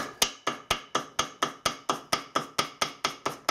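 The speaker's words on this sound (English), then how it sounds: "I'll use a hammer to cut it out" A hammer taps steadily around the sharp edge of a vacuum pump casting to cut out a gasket, about fourteen crisp, evenly spaced metallic knocks, close and fairly quiet with no talking.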